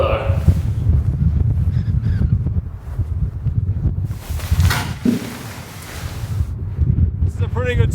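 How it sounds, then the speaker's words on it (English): Strong wind buffets the microphone outdoors at a snowy campsite in a steady low roar that rises in gusts, with a person talking underneath. "Man, it's very windy outside."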